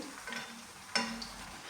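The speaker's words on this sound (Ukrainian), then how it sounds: "Хай смажиться." Quiet, steady sizzle of cutlets frying in oil, with a soft clink of a utensil partway through.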